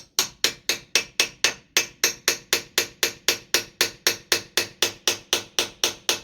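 A hammer strikes a screwdriver again and again to free a stuck part on a Bedford CA camper van. The sharp metallic blows come in a steady rhythm, about three per second, loud and close, with no other sound.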